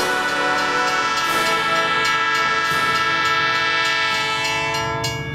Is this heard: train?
yes